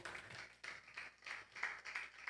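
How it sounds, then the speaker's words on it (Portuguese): A church congregation at a wedding service claps together in faint, uneven rhythmic bursts of applause, heard from some distance. "Aplauda o Senhor."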